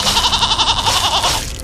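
Several goats bleat in quick, wavering succession, loud and close, with no talking over them.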